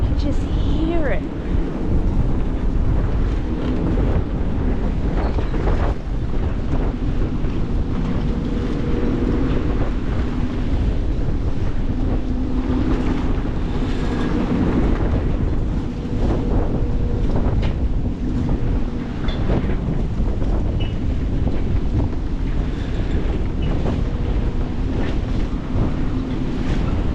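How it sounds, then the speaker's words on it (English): Icy winter wind blows hard and constantly across the microphone, a loud, rumbling buffet of gusts that never lets up, with water movement faintly beneath. "That wind is icy."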